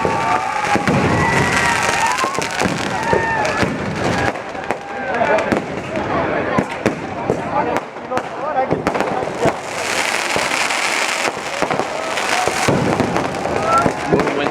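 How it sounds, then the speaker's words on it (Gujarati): Diwali fireworks bursting over a large gathered crowd at Sarangpur, with repeated cracks and booms amid cheering and shouting children, close and loud, with people talking throughout. "બહુ મસ્તીની આતશબાજી હોય"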